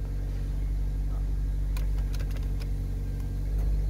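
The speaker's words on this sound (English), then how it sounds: "now that we have started the engine" A Toyota Corolla Verso 1.8 VVT-i engine idles steadily, a deep constant rumble heard close with a few faint clicks and ticks over it and no talk.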